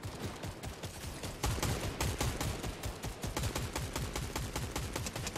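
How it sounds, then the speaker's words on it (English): Rapid gunfire from a Fortnite match, dense overlapping bursts of shots crackling continuously and loudly throughout, with no talking. "some asshole shooting at me"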